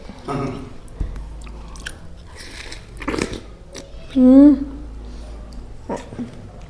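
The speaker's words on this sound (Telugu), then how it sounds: "వాటర్ మిలన్ తింటే" Someone bites into and chews a big watermelon, a few wet crunchy bites spread through the stretch, close to the mic and mixed with other mouth and room noises.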